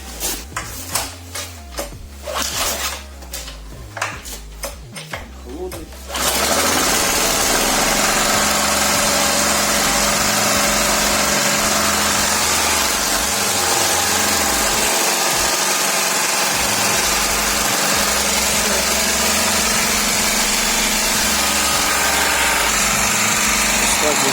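A homemade petrol generator built from a car engine cranks with a few sputters and then catches, settling into a loud, steady idle that runs on alone for about eighteen seconds.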